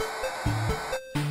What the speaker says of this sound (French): le bruit que vous entendez, c'était le bruit du magnétophone